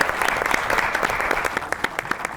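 Studio audience applause for a doctor guest on a Pakistani talk show, lively continuous clapping with sharp distinct claps near the front, steady and fairly loud throughout.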